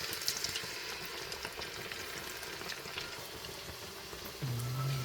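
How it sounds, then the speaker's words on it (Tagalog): Chicken tenders fry in hot oil with a quiet, continuous crackling sizzle, and a faint low hum rises near the end. "pag mainit na ang mantika, pwede na natin simulang magprito."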